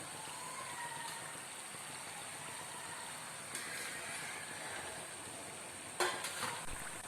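Ring murukku fry in hot oil, giving a faint, steady sizzling hiss with scattered soft crackles and a few brief louder pops toward the end.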